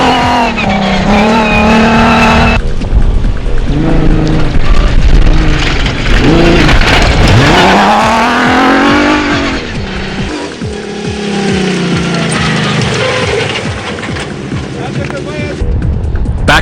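Rally car powered by a Nissan 3.5-litre V6 racing at the Mariendal 250 off-road event, engine loud and close with rising and falling revs, gear changes and a tyre squeal, under commentator talk throughout.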